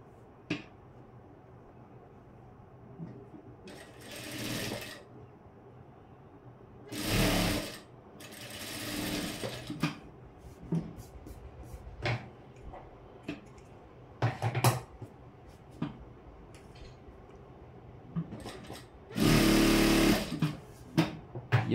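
A domestic sewing machine stitches the center dart of a blouse in short separate bursts, loud and close, with quiet pauses and small handling clicks between runs.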